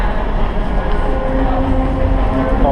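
A New York City number 1 subway train rumbles underground near 42nd Street. The loud, steady roar of the rails and carriages fills the whole moment without pause, and no voices are heard.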